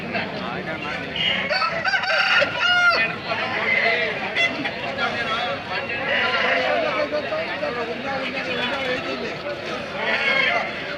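Several roosters crow and hens cluck nearby at a poultry market, the calls rising over a background of people talking throughout.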